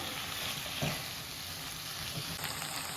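Chicken pieces and onion sizzle in a pot while being stirred together, a steady close frying hiss with a few soft scraping knocks from the spoon.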